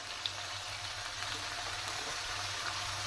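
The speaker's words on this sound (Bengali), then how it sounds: "সর্ষে পোস্ত, পেঁয়াজ বাটা এবং লঙ্কা বাটা একসাথে মিশ্রণ করে গরম তেলের মধ্যে দিয়ে দিলাম" A paste of mustard, poppy seed, onion and chili hits hot oil, giving a steady, soft, close sizzling hiss with faint crackles throughout and no voices.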